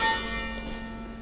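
Church bells ring out in a small village, a single loud strike ringing on with a rich, sustained metallic hum that slowly decays.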